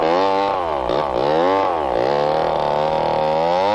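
A chainsaw cutting down a large redwood tree, its engine droning loud and close with steady pitch swings as the cut loads and eases, running unbroken with no voices.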